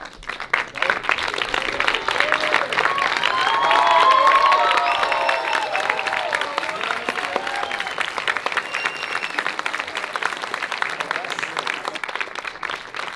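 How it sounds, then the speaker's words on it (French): An audience at a film premiere gives sustained applause that swells and then holds steady, mixed with cheers and whoops. A voice can be heard over the clapping. "On peut faire un dernier tonnerre d'applaudissements pour Benoît"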